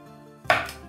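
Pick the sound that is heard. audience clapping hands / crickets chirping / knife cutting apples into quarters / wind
knife cutting apples into quarters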